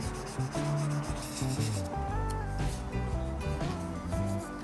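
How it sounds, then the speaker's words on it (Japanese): Sanding a curved tip of a 1/24 Tamiya Nissan Skyline 2000GT-R plastic model with a sponge sanding file: a continuous close rubbing scrape, with music playing loudly underneath the whole time. "先端の R がかかってるような部分はスポンジヤスリを使って"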